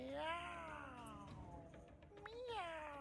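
A cat's drawn-out, wavering meow sounds close and fairly soft, its pitch bending over about three seconds with a second rising cry near the end.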